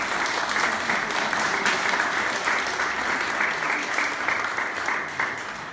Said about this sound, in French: Eh bien, on peut les applaudir.